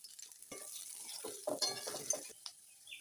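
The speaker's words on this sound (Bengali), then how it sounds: "এখন কচুটা দেব এর মধ্যে, দিয়ে এটাকেও লাল লাল করে ভেজে নেব।" Taro (kochu) goes into a pan after potatoes, Bengali style, and fries there: a soft steady sizzle under repeated scraping and clinking of a spatula stirring against the metal, close by, with no voices.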